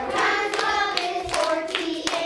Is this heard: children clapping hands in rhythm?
yes